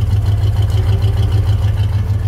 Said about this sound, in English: It's got a brand new exhaust system in it. It's got a nice mellow sound to it.